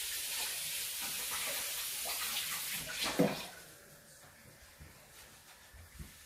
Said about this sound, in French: Là, je vais me laver un petit peu les mimines.